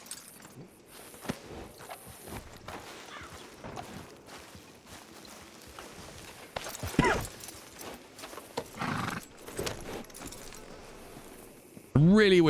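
Horse hooves clip-clopping in Red Dead Redemption 2, with intermittent footfalls, a neigh and other movement sounds under ongoing talk.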